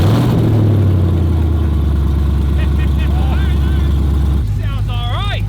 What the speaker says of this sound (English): there's no good reason it shouldn't just fire up